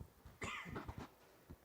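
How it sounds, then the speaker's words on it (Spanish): A man with a lingering cough lets out one sharp, close cough followed by a couple of weaker rasping coughs and a faint throat sound in a quiet room. "Ando un poquito afectado de la tos, me disculpan."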